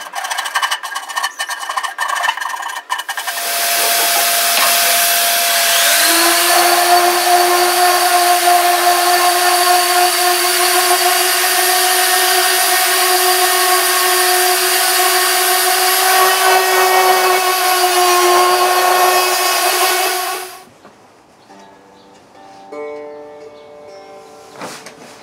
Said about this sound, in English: Then we'll take the orbital sander and we'll just kind of go everything and smooth it out